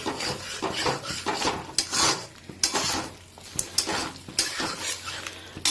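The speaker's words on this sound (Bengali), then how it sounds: "এটাকে আমরা এর সাথে মিক্স করব" A spoon stirring chicken rezala with ginger-garlic paste in a metal pan, with irregular scraping strokes and clinks against the pan and a faint sizzle, close up and alone.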